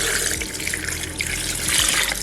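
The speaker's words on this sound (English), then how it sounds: "let's finish putting the water in." Water poured into a Nama M1 plant-based milk maker, a steady close splashing stream running for about two seconds with no talking.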